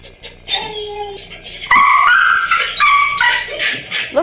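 A dog whimpers in high, thin cries, then breaks into louder strained yelps and whines, close and continuous.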